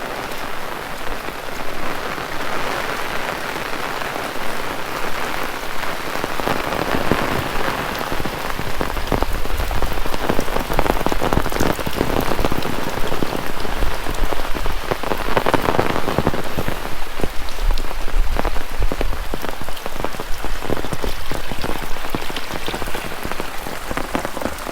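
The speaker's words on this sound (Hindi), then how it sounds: "मगर अब जब बारिश की ज़रूरत नहीं है तो बरसात हो रही है।" Heavy rain pours steadily over rice paddy fields at harvest time, a loud, dense, continuous hiss of drops hitting the surface that swells slightly midway, with no voices.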